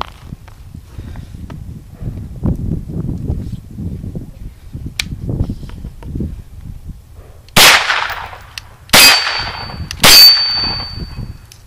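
A Kel-Tec Sub2000 Gen 2 in Glock 19 configuration, fed from a 31-round magazine with Federal aluminum-cased ammunition, fires three loud shots that clang off a steel target downrange, after quiet shuffling and handling noises.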